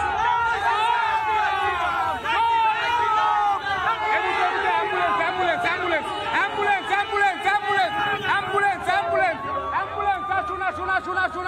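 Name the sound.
crowd at Ram Navami rally procession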